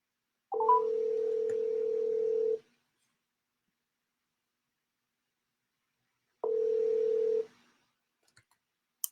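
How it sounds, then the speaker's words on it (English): Telephone call ringing tone, two steady electronic ring bursts about two and four seconds long separated by a silent gap, followed by faint clicks. "And I'm calling you on your phone."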